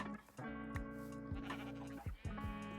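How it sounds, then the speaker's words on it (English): Sheep in the video game Minecraft bleat several times in quick succession, wavering, clear and fairly close, with no talk over them. "I successfully sniped the sheep."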